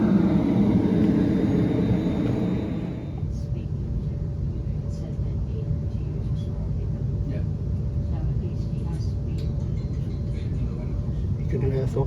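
A West Midlands Railway class 350 electric train rolls into a station with a deep, steady rumble and a faint hum that holds for several seconds, close and loud, with someone talking over the first few seconds.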